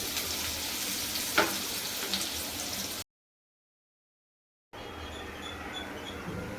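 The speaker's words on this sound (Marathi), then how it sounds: "कांदा छान आपल्याला लाल रंग येईपर्यंत तेलावर परतून घ्यायचा" A chopped medium-sized onion fries in hot oil, making a steady, close sizzle. The sizzle drops out briefly, then comes back a little softer, and no one speaks.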